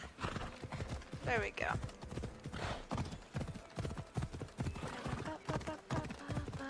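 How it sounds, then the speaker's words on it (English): Horse hooves clip-clop in Assassin's Creed Odyssey, a steady run of clear rhythmic beats over game music, with a brief whinny and someone speaking over it. "I guess I could get my horse"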